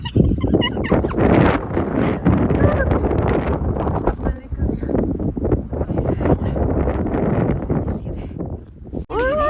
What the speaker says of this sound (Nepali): एकदम हावा चलेछ सब मास्क लगाएर